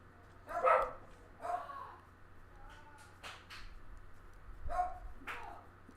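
Wolves in Minecraft bark in a few short, separate yelps at moderate distance, spaced over a quiet background.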